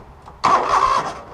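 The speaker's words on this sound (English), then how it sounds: "It cranks." Cub Cadet 3000 Series lawn tractor engine cranking over, a sudden loud close starter whir lasting about half a second before fading.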